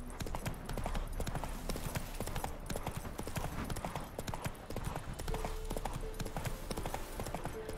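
Roach, a horse in The Witcher 3: Wild Hunt, gallops with a steady, loud clip-clop of hooves throughout, dense and continuous over a layer of game ambience.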